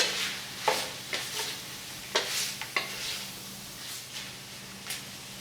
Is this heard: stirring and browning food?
yes